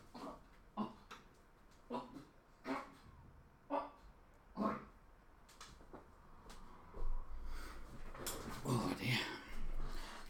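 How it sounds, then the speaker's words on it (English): Dogs bark in short, sharp bursts spaced about a second apart, fairly close, before the yelps grow more clustered and mix with someone talking. "Bloody dogs."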